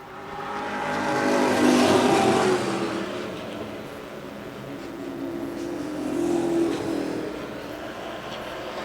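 Race cars roaring around a short track, engines swelling as a pack passes near, fading, then surging again in a second pass, loud and continuous without voices.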